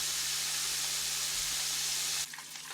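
Quail frying in a skillet give off a steady, even sizzle that holds for a couple of seconds before dropping off to a quieter hiss.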